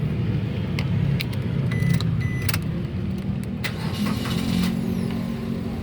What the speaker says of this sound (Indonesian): sekarang kita nyalakan mobil